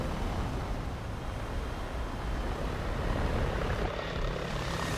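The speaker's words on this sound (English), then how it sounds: "Helicopter, way too late." A helicopter in the War Thunder video game, heard as a steady, loud, continuous rotor and engine roar with no break and no talking.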